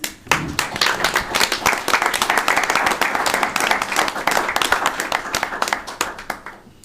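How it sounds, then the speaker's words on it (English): Audience applause at a county board of commissioners meeting, a dense burst of hand clapping that swells quickly, holds steady for several seconds, then thins out toward the end; faint voices mix in underneath. "you give these folks a round of applause"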